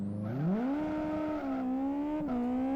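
Super Formula single-seater race car engine on slick tyres in Live For Speed, revving up steadily in first gear with a smooth rising whine that levels off, dips briefly at a shift, then holds a loud, close drone throughout.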